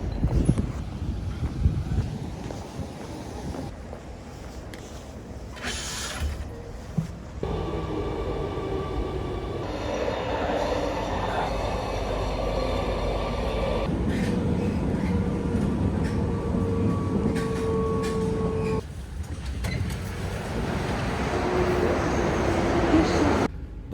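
A train pulls out of Amsterdam Zuid bound for Brussels, its rolling rumble and broadband rush rising and shifting through several sections, with wind buffeting and faint voices now and then.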